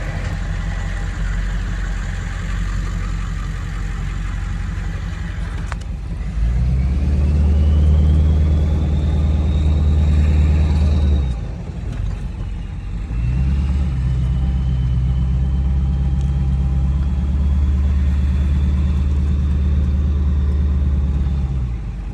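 A Ford F350 pickup truck engine rumbles steadily while the truck drives, with a louder stretch of engine rumble as it pulls away and a brief dip midway before the low, continuous drone returns.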